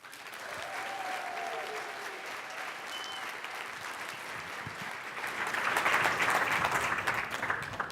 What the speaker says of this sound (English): I'd like to give a whooping, resounding round of applause for Giles and the panelists